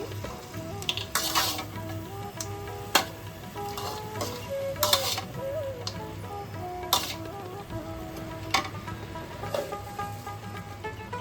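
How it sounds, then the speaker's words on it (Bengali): Fried bitter gourd and fried lentil bori dropped into a pan for sukto, giving a low steady sizzle with scattered crackles and stirring clicks, close and moderately quiet, with no talking. "এবার আমি ভেজে রাখা উচ্ছেটা দিয়ে দিচ্ছি। সেই সঙ্গে ভেজে রাখা বড়িটা দিয়ে দিচ্ছি।"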